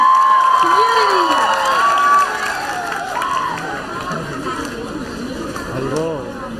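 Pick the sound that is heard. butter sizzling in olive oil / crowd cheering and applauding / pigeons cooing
crowd cheering and applauding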